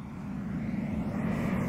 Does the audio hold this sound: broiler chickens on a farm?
no